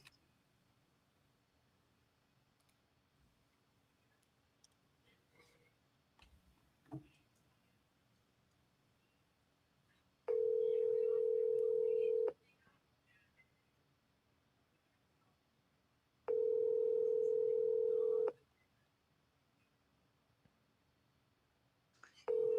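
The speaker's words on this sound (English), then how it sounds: "Your call has been forwarded to." Telephone call forwarding tones play during a live call, two long steady beeps several seconds apart, loud and alone over a quiet line with faint background ticking.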